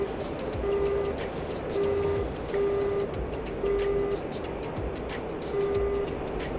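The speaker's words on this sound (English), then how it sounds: "That beeping is the fact that it's saying someone can see us" The radar warning in the DCS combat flight simulator, heard in the cockpit of a Russian Cold War fighter, repeats as a steady series of evenly spaced mid-pitched beeps over a loud, constant engine and cockpit roar.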